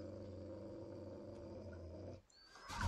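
A dog growls in the video game 7 Days to Die, a low continuous rumbling snarl under game ambience that breaks off and swells into a louder roar at the end.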